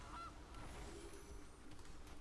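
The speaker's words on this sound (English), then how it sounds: "Goose." A goose honk sound effect from the video game MTG Arena, a single short, faint honk near the start over a low background hum.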